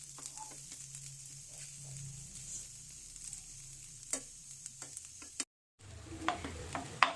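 Beef pieces for pothirachi varattiyathu are stirred and mixed in a frying pan, with a steady close sizzle, scraping spoon strokes and a brief silent gap before more clattering stirring.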